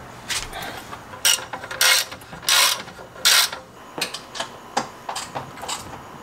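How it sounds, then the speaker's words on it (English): A ratchet tightens studs while coilovers are fitted to a Mercedes S-Class, with bursts of rapid clicking in several strokes followed by shorter single clicks and pauses, close and clear. "And now my favorite part, just tightening everything up."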